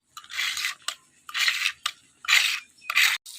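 Katla fish curry being fried and stirred in a pan, heard as four bursts of close scraping and rattling, each lasting about half a second and separated by short pauses, with no talk.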